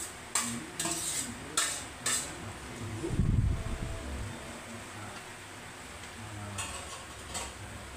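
Tofu sisig is stirred in a pan, with a few sharp scrapes and clinks of the utensil, one louder thud-and-sizzle burst in the middle, and a low frying hiss in between.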